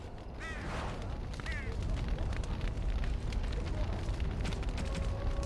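A deep, rumbling explosion in Dragon Age: Origins roars on with crackling bursts layered over it, and brief voice-like chirps sound near the start.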